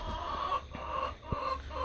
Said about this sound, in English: Speck is a speckled Sussex